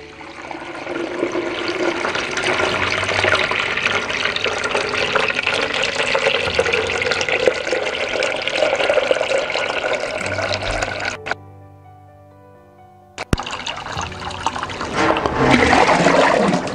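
Water gushes steadily from a hose into a 35-gallon plastic electrolysis tank, a loud continuous rushing and splashing that cuts out for about two seconds, then resumes with heavier splashing as the tank fills to the brim.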